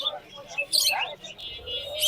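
Scattered bird chirps and tweets rise from a busy bird market at Meradia, Bangladesh, with voices talking in the background.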